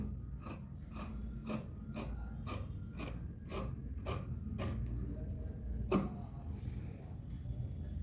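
Scissors cut through fabric for a boat neck, giving a run of about nine crisp, evenly spaced snips close by, then a short pause and one final cut over faint room noise.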